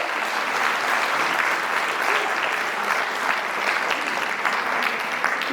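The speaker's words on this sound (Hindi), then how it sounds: "तालियां बड़े कमजोर है" An audience at a Hindi Ramcharitmanas discourse applauds in a continuous, even wash of clapping that stays moderately loud and steady from start to finish.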